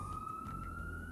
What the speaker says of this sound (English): Sorry for the busy sirens in the background.